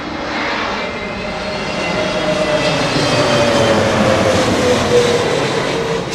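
Aircraft engines roar steadily as a jet lands in gusty wind at Heathrow Airport, a loud, close, continuous drone with a slowly shifting whine that swells slightly midway.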